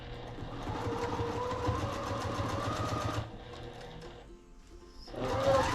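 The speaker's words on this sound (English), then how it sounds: "we are sewing this seam and not that seam" Sewing machine stitching a quilt seam for a beginner's quilt, whirring steadily and close, then pausing briefly before starting up again louder.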